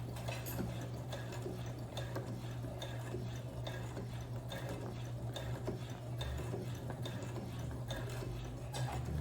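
A Brother sewing machine stitching a dress facing, its needle running in a steady, continuous mechanical whir throughout with a low motor hum, no talking.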